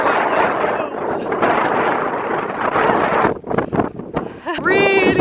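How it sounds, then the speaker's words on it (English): Strong wind buffets the microphone on a coastal hiking trail at sunrise, a loud continuous roar with gusts, and a person speaks briefly near the end. "Really windy. Struggling to keep my hat on."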